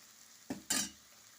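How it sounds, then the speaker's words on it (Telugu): Potato mixture dropped into a pan of softened frying tomatoes for an aloo palli curry, two quick soft plops with brief sizzling and stirring scrape, faint and close, no talking. "ఇప్పుడు దీంట్లోకి నేను బంగాళదుంప మిశ్రమాన్ని వేసేస్తాను"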